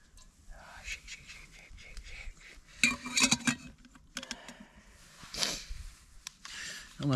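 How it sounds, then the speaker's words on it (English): A metal teaspoon scrapes and clinks against a container while someone eats an emergency meal outdoors at a wild camp in Galloway Forest, giving irregular close scratching bursts. "My problem is all I've got is a teaspoon, so I'm eating this with a teaspoon."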